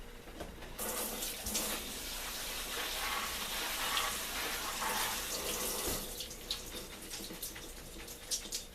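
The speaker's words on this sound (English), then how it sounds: "I'm going to rinse these again one more time" Tap water runs steadily into a sink as wild early-spring salad greens are rinsed, a close continuous splashing hiss with small shifts in flow.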